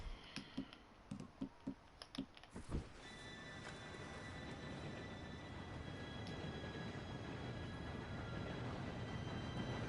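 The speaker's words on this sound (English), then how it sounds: "Train should be here" Train in the Red Dead Redemption 2 video game: a steady, broad rumble builds and holds for most of the clip, with a faint high whistle-like tone, after a few short knocking hits at the start.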